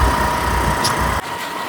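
A car engine runs steadily while the vehicle is driven, a continuous close low drone that drops abruptly quieter near the end.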